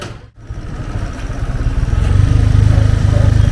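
A rented motorcycle in Darjeeling, in poor, rattly condition, idles with a rough, uneven chug, then revs up and holds a loud, steady rumble close by.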